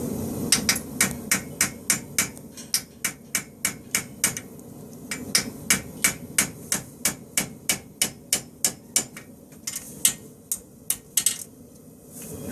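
A hammer strikes a straight bar horseshoe on an anvil in a fast, even rhythm, with dozens of sharp, ringing metallic blows up close and no talking.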